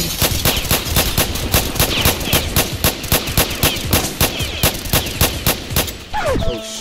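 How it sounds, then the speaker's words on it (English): Rapid automatic gunfire in a Roblox hood roleplay game, a long run of evenly spaced loud shots in quick bursts before a brief pause and a final burst. "Who is this shooting me?"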